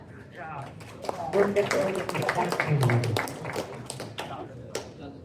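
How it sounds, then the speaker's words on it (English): An audience at a hackathon closing ceremony claps in a burst of scattered applause that swells and then thins out, moderately distant, with voices talking over it. "give yourself a huge round of applause"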